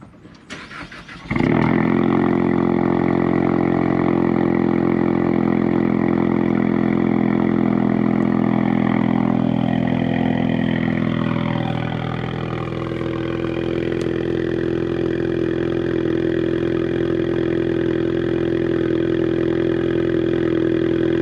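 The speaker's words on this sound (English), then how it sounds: "Doesn't sound bad for a 4-cylinder." A four-cylinder Ford Mustang engine cold-starts after a short quiet moment, then settles into a steady, loud, close idle that dips slightly partway through and holds for about twenty seconds with no talking.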